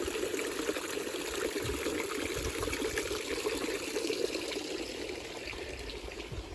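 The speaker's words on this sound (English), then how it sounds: "We have this really nice little water feature." A soft, steady trickle of running water from a small garden water feature continues throughout, gentle and even, heard outdoors with no talking.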